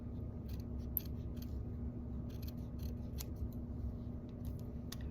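Scissors make a series of small, crisp snips through felt trimmed on a macrame rainbow, irregular clicks over a low steady background hum.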